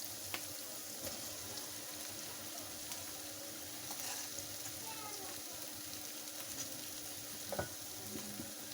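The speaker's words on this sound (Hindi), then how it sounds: "इसको हम लो फ्लेम पे अच्छे से इसमें भून लेते हैं और मिक्स कर लेते हैं इसको" Boiled chana dal and spiced masala being stirred and fried in a pan over a low flame, a steady soft sizzle with occasional scraping of the spoon, faint and close.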